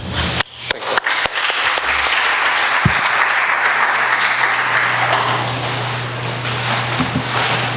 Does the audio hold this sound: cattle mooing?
no